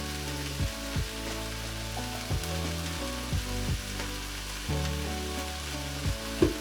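Tomatoes and dried thyme fry in a pan for a rice dish, giving a steady close sizzle broken by several brief stirring scrapes and clinks.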